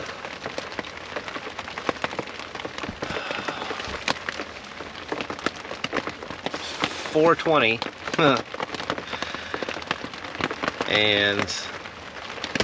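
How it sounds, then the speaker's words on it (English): Heavy, steady rain patters and crackles on a Ford F250 pickup truck on a cold overnight solo trip, a dense continuous drumming while someone talks over it. "it's literally rained like this since midnight. I'm guessing you guys can hear that."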